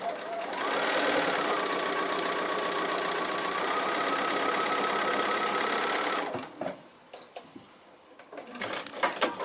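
A sewing machine runs continuously and loudly as it stitches a small tulip tree applique, then stops, followed by scattered clicks and light handling noises.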